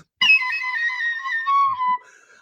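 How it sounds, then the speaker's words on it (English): A bright, breathy tin whistle plays a short melody up close, a few clear notes held and then ending abruptly. "Like the Irish whistle."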